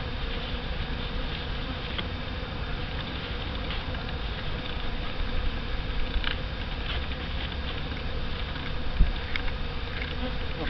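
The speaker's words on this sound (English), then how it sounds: "We got some bees there on the cart." Honeybees from a package being installed into a hive buzz continuously at close range, a dense, steady hum with scattered light taps and knocks, no voices.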